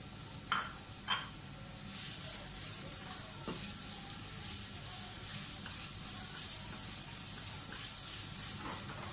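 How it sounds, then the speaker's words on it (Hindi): Grated onion frying in a pan, a soft continuous sizzle and hiss with a few sharp clinks of a utensil near the start, fairly quiet throughout. "ये जो हमने प्याज कद्दूकस करके रखी हुई है ये डाल दें और इसको फ्राई करें"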